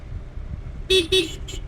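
A car passes along a street in Bali with a steady background road rumble, and two loud horn toots are followed by a shorter third one.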